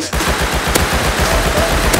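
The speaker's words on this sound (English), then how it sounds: "He's shooting me, dude." Gunfire in the survival video game Rust comes as a loud, rapid stream of repeated shots that runs without a break across the whole moment, with no talking over it.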